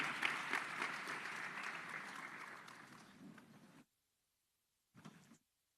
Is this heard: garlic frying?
no